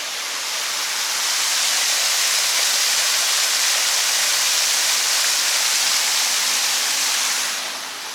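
Water splashes and rushes continuously from a fountain in the city centre of Santiago, Chile, a loud, steady hiss that fades slightly at the end.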